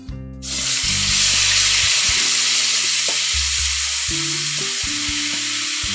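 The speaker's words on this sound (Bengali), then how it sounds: "পেঁয়াজ বাটা দিয়ে আমি কিছুক্ষণ একটু ভেজে নেব" Onion paste frying in hot oil in a pan, a loud, steady close-up sizzle and hiss that starts abruptly and runs unbroken, with no voices.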